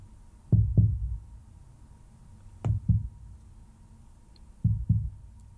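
Heartbeat sound effect: three well-spaced double thumps, each a deep lub-dub pair, loud and close over a low steady hum, with no voices.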